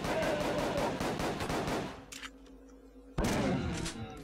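A silenced submachine gun fires in the UNLOVED video game: a long, rapid, close burst of muffled shots, then a short lull with faint clicks, then another sudden burst.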